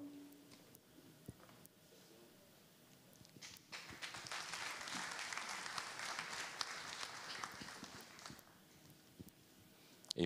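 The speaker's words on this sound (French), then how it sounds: "Et on va accompagner nos officiels à leur place avec des applaudissements." Audience applause for officials at a lottery draw ceremony, starting after scattered footsteps and swelling into sustained clapping for several seconds before fading.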